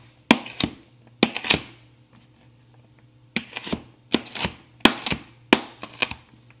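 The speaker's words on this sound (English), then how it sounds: "You can just chop it up as finely as you would like." A knife chops food finely on a board for an avocado and tomato dish, in short bursts of quick, close taps separated by brief pauses, with no talking.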